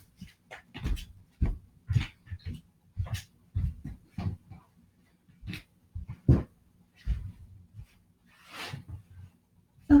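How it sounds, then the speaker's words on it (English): Dogs pant, snuffle and whimper in short bursts close by indoors, scattered irregularly with brief quiet gaps between sounds. "I have to get the dogs in."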